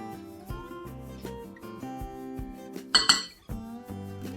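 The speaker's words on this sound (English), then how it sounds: "And now we'll combine all these dry ingredients." Dry cookie ingredients, including jaggery powder, being mixed in a bowl, heard as repeated ringing clinks and scrapes of a utensil against the bowl, close by and steady, with one louder clatter near the middle.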